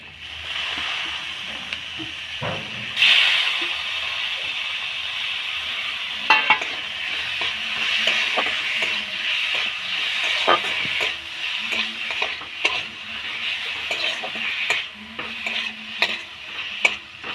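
Minced chicken fries in a pan with spices, a bright steady sizzle broken by repeated scraping and knocking as a spatula stirs the meat, close and loud.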